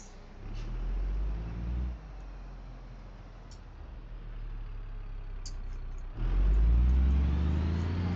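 A bus in BeamNG.drive runs with a deep engine rumble that dips around two seconds. It holds steady, then swells louder near the end as the engine works harder, with faint clicks on top.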